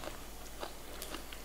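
Close, crunchy chewing of fried seafood such as salmon during a Mizo and Aussie mukbang meal, with several faint bites and crunches spread over a low background hiss.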